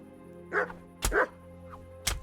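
A guard dog in the medieval open-world game Kingdom Come: Deliverance barks three times in separate sharp bursts, with a low steady drone in the background.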